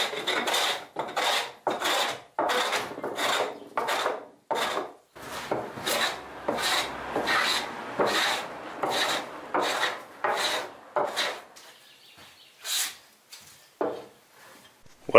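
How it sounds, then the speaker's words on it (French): A hand plane is pushed over a solid wood workbench top in repeated rasping strokes, about two dozen close, scraping passes with short pauses between them, some strokes lighter toward the end. "il va falloir que je fasse un coup dans un sens, un coup dans l'autre, et puis après que je fasse une finition pour enlever un petit peu partout avec un rabot de finition"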